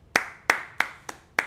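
Five sharp hand claps ring out close to the microphone at a steady, slightly uneven pace, each a crisp isolated smack with no voices around them.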